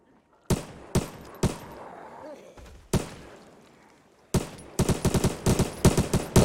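Gunfire shooting zombies in Project Zomboid: a few separate loud shots with ringing decay, then a rapid cluster of close, sharp bursts near the end, with a voice talking between them.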